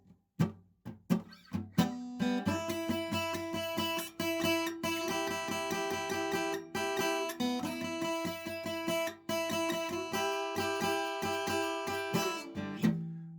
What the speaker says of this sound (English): another look at a nice simple blues lick you can throw into your playing